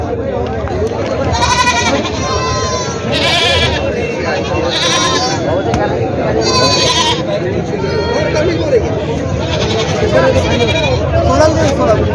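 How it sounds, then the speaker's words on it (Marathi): Goats bleating at the Vasmat goat market, with repeated loud, wavering bleats from several animals rising over steady crowd babble, while someone talks nearby. "या साईडला संपूर्ण बकरी आहेत"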